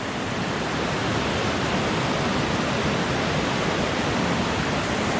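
Steady, close rush of a small forest creek in Olympic National Forest, an unbroken broadband wash of running water with no talking.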